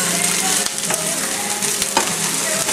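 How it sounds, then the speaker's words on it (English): Eggs cooking for chilaquiles in a hot pan, a steady loud sizzle with frying crackle and occasional scrapes of a utensil stirring through, no talk. "we're gonna mix in the eggs. Put it all in. Let it cook for a while."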